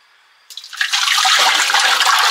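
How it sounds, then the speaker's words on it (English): Tomato puree pours into a thick-bottomed Paderno stock pot, starting abruptly after a quiet moment and continuing as a steady, close, loud liquid rush until the end. "Put all of our tomato puree in there."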